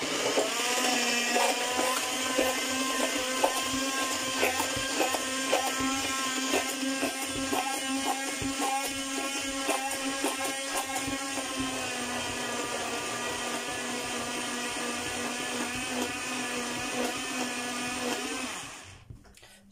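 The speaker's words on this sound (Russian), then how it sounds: "И все это взбиваем." An electric blender whirs steadily, whipping homemade mayonnaise with vinegar, a loud sustained motor whine with constant pitch for about eighteen seconds before cutting off abruptly at the end.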